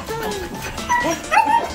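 A hungry dog whimpers and yips in short, high whines, rising in two brief bursts near the end, with faint background noise throughout.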